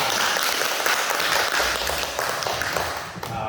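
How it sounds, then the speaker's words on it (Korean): An audience at a talk on breathing meditation claps together in a dense, continuous round of applause that holds steady and then tapers off slightly near the end. "박수 한번 부탁드립니다."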